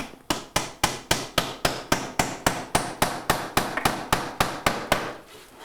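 A hammer drives nails into window trim on a shingle style home, about sixteen sharp, evenly spaced strikes in a steady rhythm, loud and close with no talk.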